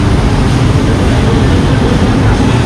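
Recife metro trains operated by CBTU at a station, a loud, steady low rumble of rolling carriages and motors filling the whole moment, with no talking.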